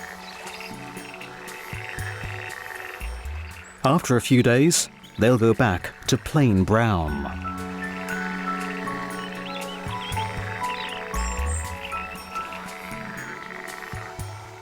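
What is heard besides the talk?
moor frogs croaking at Lake Wörthersee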